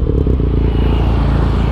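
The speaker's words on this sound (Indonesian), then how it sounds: "Nah untuk suara knalpotnya seperti ini." A Benelli TNT 249 S motorcycle idling through an aftermarket double baler muffler, a deep steady low burble with a slightly uneven pulsing beat, close and loud with no talking.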